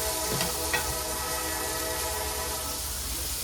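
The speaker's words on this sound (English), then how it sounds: "And now we have a train." Train rumbling past outside open kitchen windows, a steady low roar with rail clatter and a faint whistle tone, heard from indoors at moderate distance, with a soft sizzle of rice cooking nearby.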